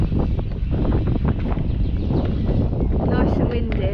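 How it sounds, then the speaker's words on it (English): Wind buffets the microphone at an outdoor pump track, a loud low rumble that runs continuously without letup for the whole stretch. "Nice and windy as well."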